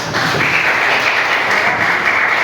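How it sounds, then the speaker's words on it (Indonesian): A crowd applauds steadily with dense, continuous clapping that holds at an even level throughout, without any talking. "tepuk tangan untuk Tasya."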